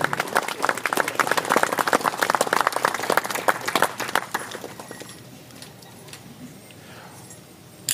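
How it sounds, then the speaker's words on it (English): Audience applause at a child-welfare agreement signing ceremony with Cowessess First Nation, crisp individual claps from a crowd that fade after about five seconds into quiet room murmur. "Let's give them a big round of applause."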